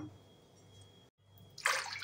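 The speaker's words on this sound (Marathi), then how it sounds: "एकूण आपण 6 कप पाणी टाकणार आहोत." Water poured into a pot for rasgulla sugar syrup, a short splashing gush arriving near the end after a quiet moment, close and fairly loud, with no talking.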